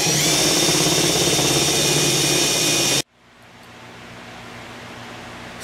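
A RYOBI power tool drives an outboard motor spinning in reverse in a garage, giving a loud, steady whirring drone for three seconds that cuts off abruptly, leaving quiet room hum.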